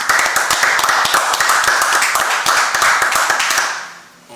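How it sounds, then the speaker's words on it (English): A group of men in a brotherhood class in Harlem claps hands together, loud rhythmic unified claps for several seconds that stop abruptly at the end. "Let's clap it up."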